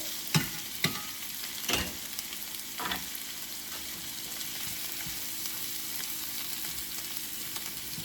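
Mushrooms frying in butter and a little oil in a pan, a steady close sizzle with a few sharp clinks and scrapes of stirring near the start, no voices.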